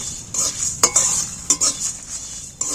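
Whole spices frying over low heat in a pan for a raw mango pickle: a steady bright sizzle with a few sharp stirring clinks of a spoon against the pan.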